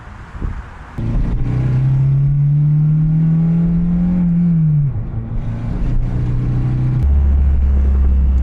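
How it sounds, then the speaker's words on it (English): Modified Acura RSX engine revs hard while driving, a loud sustained drone that climbs in pitch, drops off around a gear change, then rises again close up with no talking. "give you guys some reactions and some driving clips of the RSX with its new and improved modifications from PLM"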